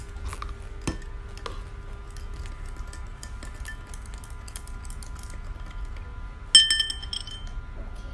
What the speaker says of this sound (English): And then pouring, I'm going to mix it up.